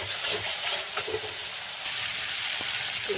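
Potatoes and ridge gourd tossed into a hot pan with spices for a Bengali fish curry, giving a continuous frying hiss with scraping stirs and occasional soft knocks of the spoon, no voices.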